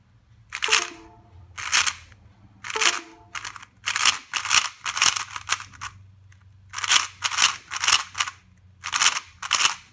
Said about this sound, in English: My computer is making annoying sounds.